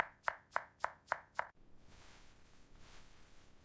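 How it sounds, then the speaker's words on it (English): A knife dices potatoes on a cutting board with five evenly spaced, sharp chops, close and crisp, followed by a low quiet rustle of handling as the chopping stops. "I am dicing the potatoes."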